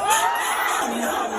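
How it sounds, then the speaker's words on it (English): Concert crowd at a show cheering wildly, a loud dense wall of shouting and whooping voices filling the short moment without pause. "the bots in the crowd going crazy"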